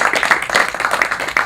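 Round of applause for the filmmakers at a cinema festival Q&A, a small group clapping in quick, uneven bursts at close range.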